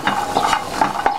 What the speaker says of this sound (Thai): เดี๋ยวเราจะไปคั่วในส่วนของกระเทียมนะ